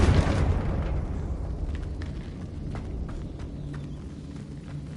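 Confringo fire spell from the Hogwarts Legacy video game bursts into a loud explosive boom up front, then its rumbling tail slowly fades, with scattered smaller crackles and pops over the following seconds.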